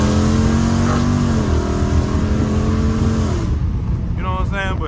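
A Dodge Charger Scat Pack's engine drones loudly and steadily from inside the cabin while driving, its pitch rising and falling, then easing near the end as a voice cuts in briefly.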